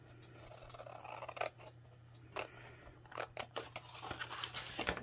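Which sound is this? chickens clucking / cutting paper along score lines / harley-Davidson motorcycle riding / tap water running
cutting paper along score lines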